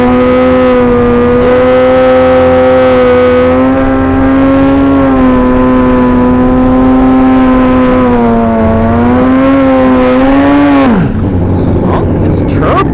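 Turbocharged Suzuki Hayabusa drag bike at a drag strip test-and-tune session, holding a loud, steady high-pitched drone, rising slightly near the end before cutting off abruptly; a voice comes over it.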